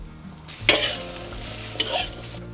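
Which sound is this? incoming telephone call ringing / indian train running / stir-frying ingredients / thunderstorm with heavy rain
stir-frying ingredients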